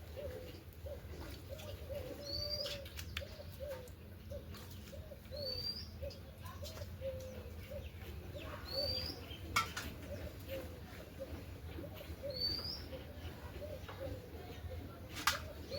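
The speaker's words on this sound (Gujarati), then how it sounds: "પક્ષીઓ પણ અત્યારે બોલાવે" Morning birdsong outdoors in a village: repeated soft cooing of doves with occasional high chirps and whistles, moderately distant over a low background hum.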